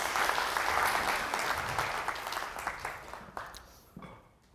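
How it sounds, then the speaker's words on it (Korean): Applause from a seminar audience at a talk on real estate and building ownership: dense clapping that is loud at first, thins out and fades to a few scattered claps by the end. "박수 한번 주세요."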